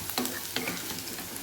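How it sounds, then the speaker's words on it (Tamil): Slices of bitter gourd fry in hot oil, giving a steady, close crackling sizzle with a few brief scraping stirs and no voices. "பாவக்காய் போட்டு பொரிச்சிருங்க."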